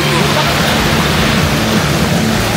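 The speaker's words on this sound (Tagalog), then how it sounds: "Oh, lakas ng alon." Strong ocean waves crash in a loud, steady broadband roar of surf that fills the whole stretch, with faint music and voices low beneath it.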